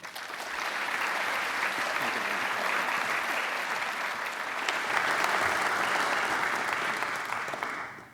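Lecture audience applauding to welcome a speaker before a talk on random walks, a sustained even wash of many hands clapping that swells in, holds steady for several seconds, then tapers off at the end.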